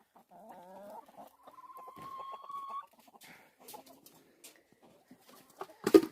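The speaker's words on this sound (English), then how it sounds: "The geese have found us now." Geese honk and cluck in short bursts, a few sustained cries among scattered squawks, ending in a loud flurry of flapping or noise.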